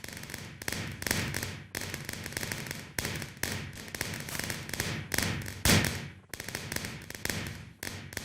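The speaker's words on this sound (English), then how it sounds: "Looks like a real fireworks for a celebration on Canada Day or July the 4th" Fireworks bursting in Minecraft, a rapid run of popping thuds and crackling explosions back to back, one especially loud blast near the end, with no talking.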